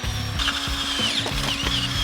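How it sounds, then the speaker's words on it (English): A power drill boring holes into a steel trailer frame during a DIY off-road Bantam trailer build, the motor whirring and ratcheting in short repeated pulses, close and steady with no talk. "How does it feel to have just drilled 4 holes?"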